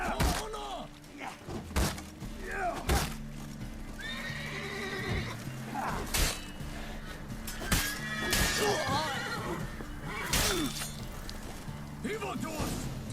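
A horse neighs and whinnies repeatedly amid clip-clopping hooves, thuds and combat clatter during a fight in The Witcher 3: Blood and Wine, with people shouting and talking over the commotion.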